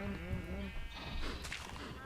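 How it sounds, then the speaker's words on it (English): Baby cows in a slaughterhouse-building video game give bleating, moo-like calls at the start, followed by a noisy burst of game sounds. "Oh no, oh my goodness, stupid baby cows."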